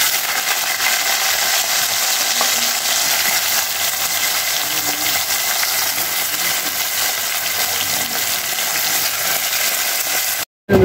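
Fish frying in a pan in a home kitchen, a steady broadband hiss and crackle of hot oil that holds close and constant throughout, then cuts off briefly near the end.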